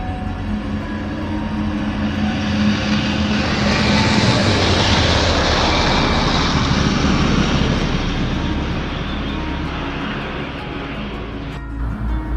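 A steady, loud drone of airliner engines during flight, heard from the cabin, swelling a little in the middle then settling into a constant roar.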